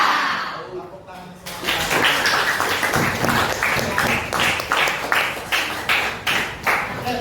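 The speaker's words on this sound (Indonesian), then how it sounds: "Tepuk tangan" Children clap their hands in a classroom, first scattered, then settling into a steady rhythm of sharp, fairly close claps that repeat evenly to the end, with voices chattering underneath.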